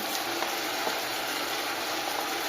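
Vegetables sizzle steadily in a hot pan, a continuous hissing crackle with occasional faint stirring clicks.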